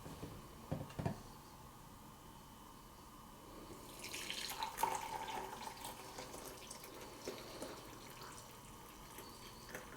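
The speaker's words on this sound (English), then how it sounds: "we'll pour the fresh coffee right into our cup." Fresh coffee pours from a Bodum French press into a cup: a soft, steady liquid stream sets in partway through and keeps trickling, with faint splashing in a quiet kitchen.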